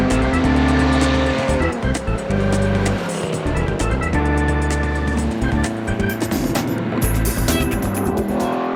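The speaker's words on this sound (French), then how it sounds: "les forêts de conifères bruisent de V8 ou de 6 cylindres" Vintage V8 and six-cylinder race cars roar along a mountain road through conifer forest with snow on the verges, a loud continuous engine din with shifting revs and some tire squeal, no talking.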